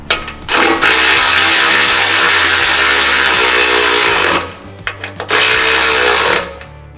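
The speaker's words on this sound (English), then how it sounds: "Next, tighten the 2 10mm bolts using a 14mm socket." Power tool, likely an impact driver, tightening bolts with a 14mm socket while a Greenlane Offroad aluminum rock slider is installed on a 6th Gen Toyota 4Runner: two long, loud, steady whirring runs split by a short pause, with no talking.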